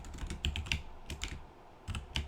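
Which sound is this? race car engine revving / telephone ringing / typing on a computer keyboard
typing on a computer keyboard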